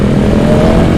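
A BMW S1000RR sport motorcycle engine runs loud and close, a steady dense roar with no pauses, warm from riding and held at a high, even pitch throughout.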